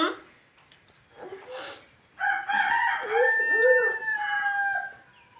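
A rooster crows loudly and close by in the middle of a riverside village scene, its long call rising and holding for about three seconds after a brief burst of background voices.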